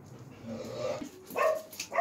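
Several dogs on a farm give short barks and yips in quick bursts near the end, close by, after a quieter stretch of low rumbling background.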